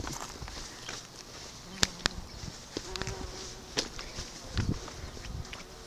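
Bees drone and buzz around beekeepers working with a smoker near a shed, a low insect hum running through the clip with sharp clicks and brief knocks of handling scattered on top, fairly close.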